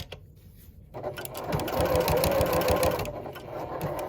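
Sewing machine stitching an upcycled denim jeans bag, a quiet start breaking into a steady, close, continuous mechanical whir of the needle running through thick fabric.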